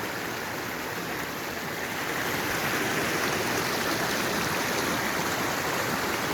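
Mountain stream rushing across a trail crossing in the High Sierra near Mather Pass, a steady broadband roar of flowing water, close and continuous, rising slightly in loudness partway through with no talk.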